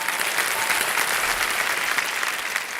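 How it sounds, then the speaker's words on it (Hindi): Sustained, dense applause from a studio audience at a Shark Tank India stage show fills the whole stretch, loud and even, with no voices standing out. "तालियां बज जाए इनके लिए"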